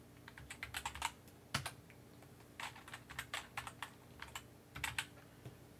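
Credentials are typed on a computer keyboard in quick bursts of crisp key clicks, several rapid runs of keystrokes separated by short pauses, close and quiet with no talking.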